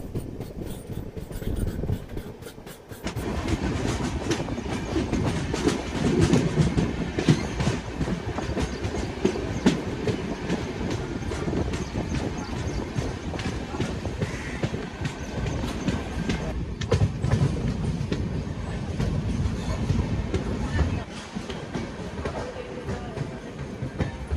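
Rayalaseema Express running on rails toward Renigunta Junction near Koduru station, a steady rumbling clatter of wheels and carriage noise that fills the whole stretch, close and continuous, after a brief quieter opening.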